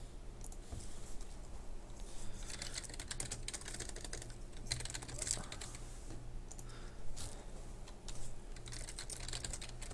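Fingers type on a computer keyboard, a steady run of close, light key clicks with brief pauses over a low background hum.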